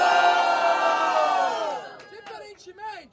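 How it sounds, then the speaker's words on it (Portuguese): A loud crowd roars and cheers at a student rap battle semifinal, the noise filling the first half and then fading as a few voices and shouts take over. "Barulho pra quem gostou das rimas de Baweb"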